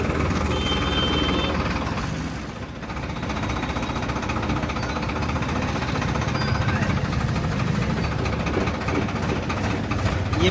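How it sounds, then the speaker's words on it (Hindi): Farmtrac Powermaxx tractor engine running steadily while driving through Supaul district, a continuous loud rumbling drone with clattering knock throughout, briefly dipping near the start, no talk. "आज कोई गाड़ी उड़ी से नहीं जा रही, ट्रैक्टर से ही सफ़र कर रहे हैं हम सब।"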